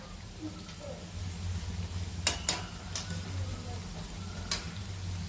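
Vadas deep-frying in hot oil hiss in a steady, quiet sizzle, with a couple of sharp metal clicks and taps as one is flipped in the pan, close and without talk.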